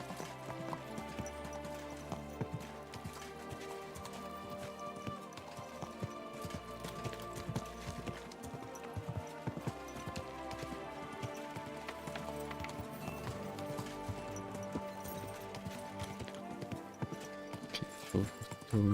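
Horse hooves clip-clop steadily in a medieval Bohemia video game, an even trotting rhythm running throughout beneath a layer of background music and ambience.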